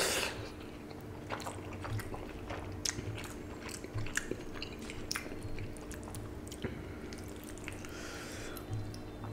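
Close, wet chewing and biting while eating panta bhat, soaked rice, served with bhorta mashes and fried hilsa, with soft squishy bites and small crunches repeating steadily throughout.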